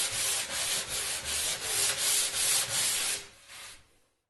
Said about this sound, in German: Beim Schleifen aller Flächen ist es wichtig, dass wir in Richtung der Maserung schleifen.